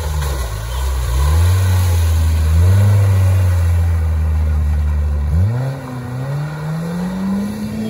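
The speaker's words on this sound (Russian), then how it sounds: "Хорошо заезжает, мотор хорошо работает, без провала." An off-road car's engine strains and revs during an off-road race, a loud, close drone that climbs and holds, drops sharply near the end, then rises again as it pushes through rough ground.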